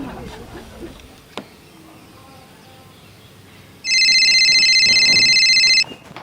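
A phone rings indoors with a loud, steady electronic tone that runs for about two seconds, after a quiet stretch with faint room noise and a single click.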